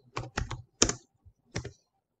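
Keystrokes on a computer keyboard, a few quick taps in short clusters then a single separate press, close and quiet in a silent room.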